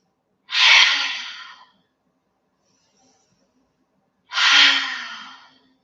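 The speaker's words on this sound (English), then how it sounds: "Take 3 deep breaths." Two deep, slow breaths during a yoga class, each a long airy exhale that fades away, separated by a few seconds of silence, close to the microphone.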